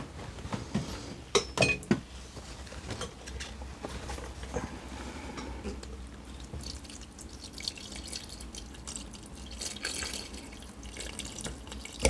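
Water poured over a newly bought potted plant to bathe it, giving a steady trickle and drip with a few louder splashes near the start, close and fairly quiet.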